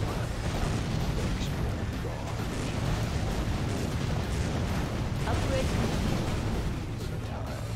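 Cobra Cannon fire in the Command & Conquer mod Contra during a tank battle, a dense, continuous rumble of booming artillery-like blasts and explosions that stay loud and steady throughout, with no clear gaps between impacts.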